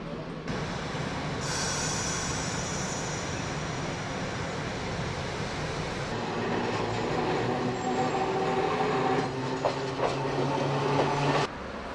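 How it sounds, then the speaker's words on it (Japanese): An Okayama city streetcar rolls along its rails through town, a steady loud rumble lasting throughout with wheel-on-rail noise, a bright squeal early on and tonal hum toward the end, alone without talk. "市内電車が走っている"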